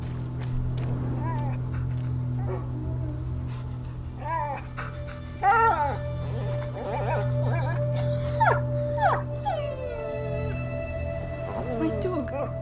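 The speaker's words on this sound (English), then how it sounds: "My dog." A dog howls and whimpers in the video game A Plague Tale: Innocence, with rising and falling wails over a steady low hum and game ambience.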